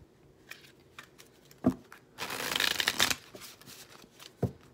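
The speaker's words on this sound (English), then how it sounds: "I just absolutely love shuffling the Vertigo Tarot. The card stock is so thin on this deck, and it's just so easy to shuffle." A thin-stock Vertigo Tarot deck being shuffled close up, with bursts of riffling and light card flutter, a few separate soft taps, and one dense stretch of rapid shuffling in the middle.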